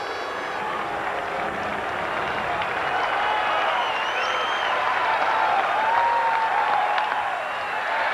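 A large baseball crowd at a 1998 San Francisco at Milwaukee game claps and cheers steadily for the whole stretch. The applause is dense and sustained with crowd roar mixed in, and a voice rides faintly on top.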